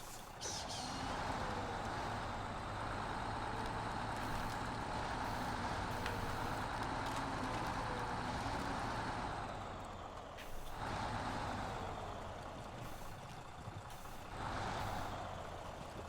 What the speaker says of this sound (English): I'm just going to back my truck up here.